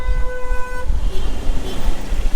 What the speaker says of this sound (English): who's going to go first and who can honk the loudest?